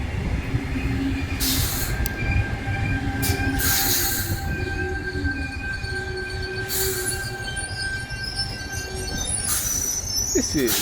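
A Sydney passenger train, a Tangara set bound for Waterfall on the South Coast Line, rolls past close by with a steady rumble, metallic wheel squeal and screeching tones on the rails, plus brief hissing bursts.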